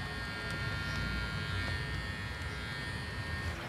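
An electric dog hair clipper from an online shop runs during home pet grooming, giving a steady, quiet buzzing hum that holds level throughout.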